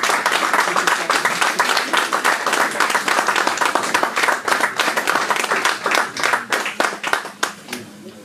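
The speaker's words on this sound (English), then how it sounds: "Keep the applause going, please." Audience clapping at a community launch event, sustained dense applause at full strength that thins into scattered claps toward the end, with a voice faintly present underneath.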